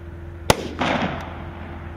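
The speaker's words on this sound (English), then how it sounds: "firing a rifle at different distances and different positions" A single rifle shot fired at targets during a timed team competition run, a sharp near crack followed by a broad rolling echo that fades out.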